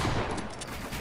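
Rapid bursts of video game gunfire fill a Fortnite-style firefight, dense and loud throughout with no talk.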